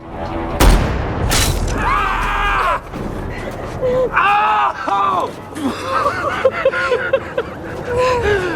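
A sniper rifle shot in a war movie lands as a sharp, loud boom near the start with a second blast just after, followed by a chaotic movie soundtrack of shouting, screams and voices.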